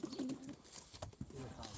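Pigeons coo softly nearby in low, throaty murmurs, with faint background movement.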